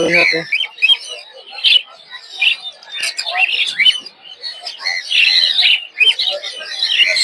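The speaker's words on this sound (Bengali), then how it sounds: "বিভিন্ন ধরনের বাজিকর পাখি দেখতে পাচ্ছি" A crowd of caged birds at a bird market chirps and tweets constantly, with dense overlapping calls, loud and close, and no voices over them.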